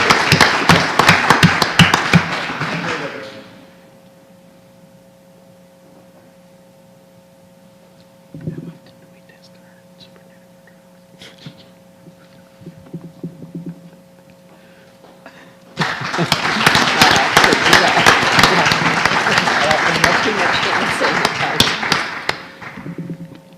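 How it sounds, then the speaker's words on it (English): Applause breaks out at a school board meeting: a dense burst of clapping for a few seconds, a quiet stretch with faint room noise and small thuds, then a second, longer round of clapping at the end. "Nice round of applause"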